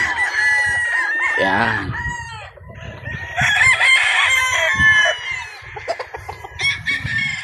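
Sweater gamefowl roosters crow repeatedly on a game farm, several loud cock-a-doodle-doos overlapping near and farther off, with clucking between them and someone briefly speaking.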